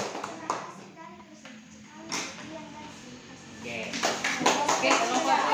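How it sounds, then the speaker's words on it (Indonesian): A classroom group gives scattered applause that swells toward the end, under children's chatter and voices. "Aplaus dulu tuh kelompok."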